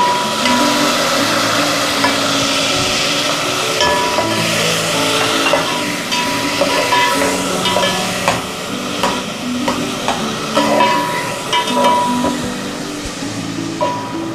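Green chillies and tomatoes fry with garlic and cumin in a hot pan, giving a loud, steady sizzle with scraping stirs and small crackles throughout, and no voices.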